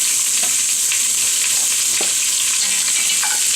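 A beef shank browning in oil on a medium-high stove gives a loud, continuous close-up sizzle and crackle, broken by a few faint knocks.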